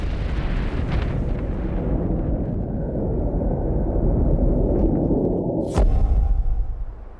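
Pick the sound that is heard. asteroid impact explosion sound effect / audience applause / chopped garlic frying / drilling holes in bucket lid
asteroid impact explosion sound effect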